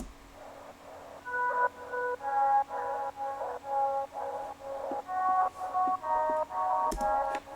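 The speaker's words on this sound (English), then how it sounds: "It sounds like it's like underwater." Muffled, underwater-sounding deep house music with a repeating pulsing pattern of short tonal chords, softened by heavy reverb and filtering, steady at moderate level.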